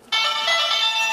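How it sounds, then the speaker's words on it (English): A bright electronic ringtone jingles from a Kaizoku Sentai Gokaiger Mobirates toy phone with no Ranger key inserted, starting abruptly and warbling steadily, close and clear, with no talking. "It just does the ringtone."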